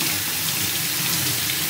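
Water runs steadily from a tap over Mudavattukal kilangu tubers being washed in a kitchen, a loud, continuous, unbroken gush.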